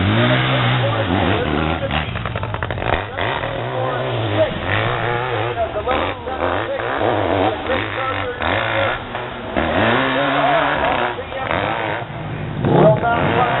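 An 800cc BMW motorcycle making a racing run at a hill climb event, its engine revving and roaring in repeated surges at a distance, heard under a loud announcer's commentary and crowd noise.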